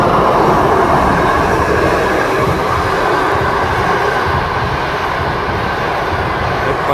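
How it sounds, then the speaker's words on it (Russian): A passenger train passing near Tolmachevo airport in Novosibirsk, a loud steady roar of wheels and carriages rolling close by without break for the full stretch, with no talk. "Это пассажирский поезд."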